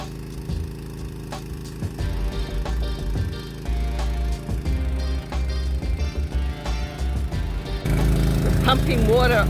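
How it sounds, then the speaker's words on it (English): A water pump runs steadily, pushing water uphill to a spare tank near a house for lawn sprinklers; a continuous motor drone with a louder shift near the end. "Pumping water up to the house block, to one of the spare tanks up there, so that we can put the sprinkler on the grass."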